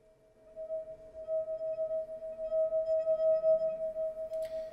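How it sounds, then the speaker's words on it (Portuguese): A wine glass rings with a sustained, pure resonant note that swells and holds steadily, fairly clear and alone, with a faint brighter tick near the end. "esse som que a gente está ouvindo, essa nota musical que a gente está ouvindo, é a frequência de ressonância dessa taça"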